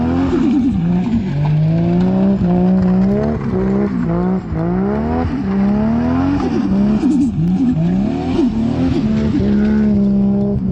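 A Nissan Skyline RB engine with an HPS exhaust manifold, a loud, raspy engine note rising and falling through repeated revs as the car is driven hard, with occasional tire squeal.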